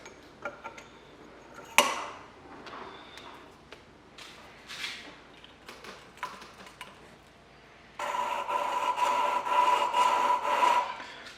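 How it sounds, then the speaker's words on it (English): An engine valve from a Holden 186 being lapped into its seat with grinding compound, a soft gritty rasping worked back and forth, faint at first and then a steadier, louder scrubbing toward the end. "start to work it back and forth and grind down the"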